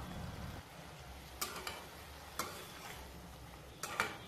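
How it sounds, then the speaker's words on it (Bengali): Boiled dal being stirred with whole spices in a hot pan, with a steady low sizzle underneath and a few sharp scrapes and taps of the spoon against the pan at irregular intervals. "দিয়ে এবার আমি সব শুদ্ধ মশলার সাথে ডালটাকে খুব ভালো করে নাড়াচাড়া করে মিশিয়ে নিচ্ছি।"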